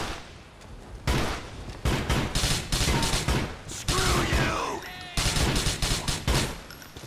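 Rapid bursts of gunfire in GTA IV: The Lost and Damned rattle in loud, dense volleys separated by brief pauses, with explosive impacts and echoing effects.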